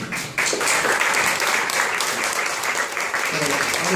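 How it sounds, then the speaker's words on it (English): Audience applause for the panellists at the Hong Kong International Literary Festival, a sustained, dense round of clapping that swells in after a brief moment and continues steadily throughout, with some murmured voices underneath. "please join me in giving them a warm round of applause"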